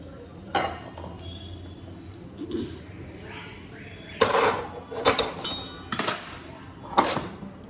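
Vegetable curry being served into dishes, with several sharp clinks and scrapes of a metal spoon against plates and bowls coming in uneven bursts, someone talking quietly between them.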